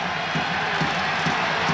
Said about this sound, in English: the crowd noise is already a factor